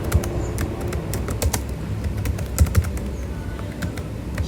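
Someone types on a computer keyboard, quick light clicks and key taps coming in an uneven patter, close and fairly distinct over a low background murmur, with no one talking.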